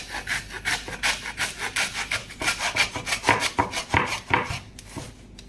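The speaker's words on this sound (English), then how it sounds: "you just come along here and just cut just the bones" A butcher saws through whole lamb bones in a quick run of rhythmic back-and-forth rasping strokes, close and loud with no talking.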